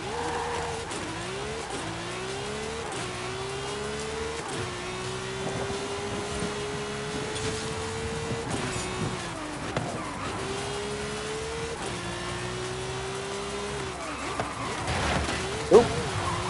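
Cars in a Forza Horizon 5 dirt race, a steady engine drone that climbs in pitch and drops with each gear shift, with tire scrabble and a brief thump near the end, under occasional talk.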